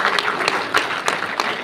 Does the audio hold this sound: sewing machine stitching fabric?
no